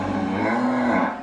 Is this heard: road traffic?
no